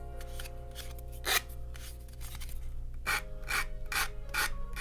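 Short rasping strokes of a file work flash off a 1:1000 scale Polar Lights USS Defiant plastic model kit, a few quiet bursts close by over a steady low hum, with no talking.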